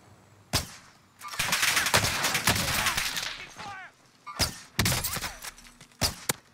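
Shotgun blasts in the Warzone video game: a long sustained burst of rapid gunfire, then several sharp, loud individual shots with echoing tails, close and dominant.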